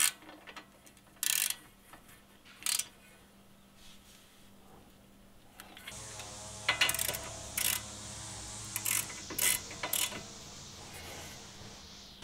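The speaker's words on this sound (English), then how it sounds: "Using a 17mm, just tighten this down." Ratcheting clicks from a 17mm socket wrench tightening brake caliper bolts, coming in short bursts early on and then a denser run of ratchet strokes and metallic clatter in the second half, close and fairly loud, with no talking.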